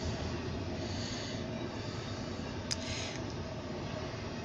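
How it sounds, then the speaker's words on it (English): A CSX intermodal double-stack freight train heading west rolls past close by, a loud, steady rumble and rattle of wheels with a brief sharp squeal partway through. "Got a big double stack train at the moment."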